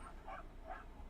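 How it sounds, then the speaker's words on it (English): Dogs give two short, faint barks in the background, quiet and distant with no talking. "Yeah, the dogs, I apologize for the dogs."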